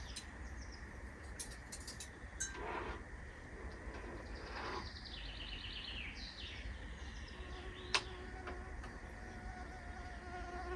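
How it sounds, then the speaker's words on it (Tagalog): Small birds chirping and trilling in a quiet garden, several short clear calls scattered over a steady buzzing insect hum, no voices. "Tahimik. Puro huni ng ibon."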